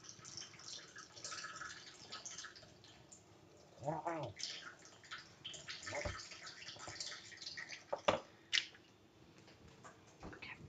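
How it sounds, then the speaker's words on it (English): Water being drained off a cooking pot while making matar paneer, a faint trickling and dripping pour with a few louder splashes and a brief spoken exclamation. "I'm just going to take the water off."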